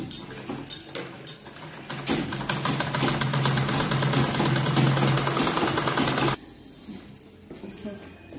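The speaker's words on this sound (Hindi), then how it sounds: "ऐसे रख के और यहाँ पे स्ट्रेट सिलाई चला लेंगे दोनों साइड से।" Sewing machine runs a straight stitch along a long skirt's belt, a steady rapid mechanical whirr for about four seconds, with brief handling and softer machine sounds before and after.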